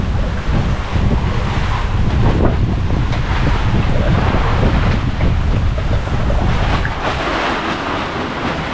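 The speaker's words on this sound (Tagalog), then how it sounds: "Lakas ng hangin dun sa tabi ng baybay," Strong wind roars and buffets the microphone continuously atop a wall by the shore, with the rumble of surf along the shore beneath it and no voices.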